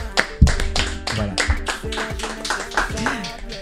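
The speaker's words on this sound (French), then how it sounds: "sous nos applaudissements, je vais emprunter vos mains pour accueillir Connie Touré" An audience claps to welcome a guest at an evening show, with rhythmic, uneven handclaps mixed with voices and background sound.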